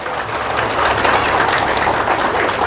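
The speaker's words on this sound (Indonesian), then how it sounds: "Tepuk tangan untuk Indonesia." Sustained audience applause at an Indonesian religious lecture, a dense steady patter of many hands clapping throughout, fairly loud with faint crowd murmur underneath.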